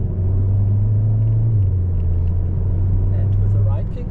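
A VW Golf 7.5 GTI accelerating on the Nürburgring Nordschleife during a public lap, its engine a loud steady droning rumble heard from inside the car, with a voice talking over it.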